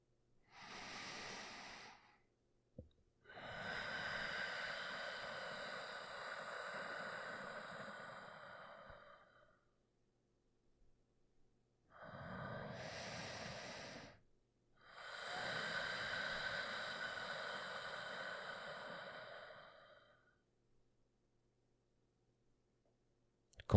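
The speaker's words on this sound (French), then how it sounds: "écoutez tout en expirant le bruit d'océan que vous produisez ainsi" Ujjayi yogic breathing during a calm meditation, two slow cycles of a short inhale followed by a long, soft, ocean-like hissing exhale through a narrowed throat, close and alone with quiet pauses between.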